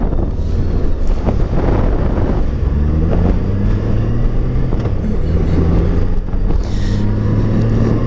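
Strong spring wind buffeting a microphone on a rider of a three-wheeled motorcycle, a loud continuous roar and rumble with engine drone underneath, close and unbroken throughout.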